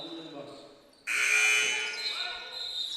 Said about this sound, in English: For KCU right now, we got another buzzer.